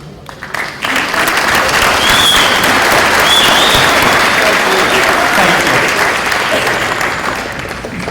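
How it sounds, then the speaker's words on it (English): A loud, sustained wave of audience applause fills a school ribbon cutting ceremony, starting abruptly and holding steady for about seven seconds before easing slightly. "we should acknowledge and applaud them"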